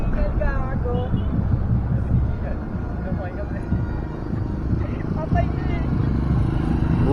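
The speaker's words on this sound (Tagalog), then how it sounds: "Grabe naman yung hangin, lakas rin." Strong wind buffets the microphone with a constant low roar during a race in Navotas, while people talk and shout over it throughout.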